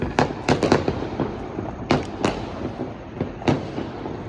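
A quick run of sharp New Year firecracker bangs, several in close succession and a few more scattered after, over a low rumble.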